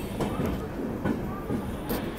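Swarna Jayanti Express rolling into Vijayawada station in Andhra Pradesh, heard from on board as a continuous low rumble of moving carriages with faint rhythmic wheel clatter throughout.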